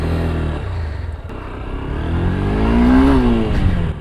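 Honda NX 200 motorcycle riding onto a test track, its engine note steady then rising in a clear rev around the third second, close and loud throughout with no talk.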